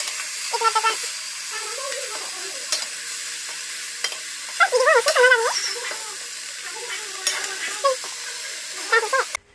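Pork fries in a pan for a village-style curry with taro flower, hissing steadily while it is stirred and scraped, and a voice talks over the frying at intervals.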